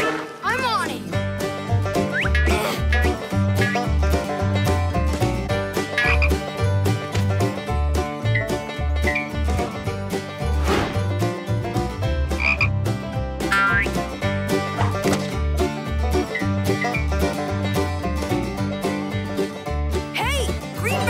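Cartoon frog croaks from a kids' animated series about a little frog that jumps, heard over a busy, loud music track with constant bright sound effects throughout.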